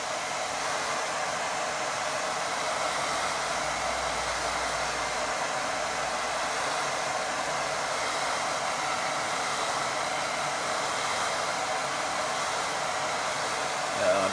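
A hair dryer on gentle heat blows steadily over a watercolour painting, giving a constant, even whoosh of air at close range with no pauses.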